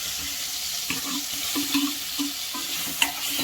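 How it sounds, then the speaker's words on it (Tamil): Boiled potatoes being sautéed in a pan for potato sambar, with steady stirring scrapes and a soft sizzle over a constant hiss, plus a few louder clinks of the spoon against the pan. "இப்போது நம்ம வேக வச்ச உருளைக்கிழங்கு சேர்த்துக்கணும்."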